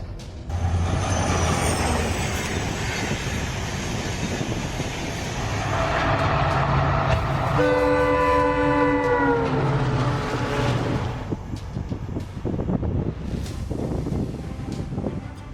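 A train rumbles past with a loud, sustained horn blast that holds steady tones for several seconds, over continuous heavy rail noise, close and loud with no talking.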